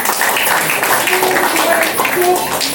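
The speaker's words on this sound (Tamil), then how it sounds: "நல்ல ஒரு கைத்தட்டல் கொடுக்கலாம்" Applause rings out at a child's second birthday party, a brief burst of clapping from the guests under lively chatter and voices.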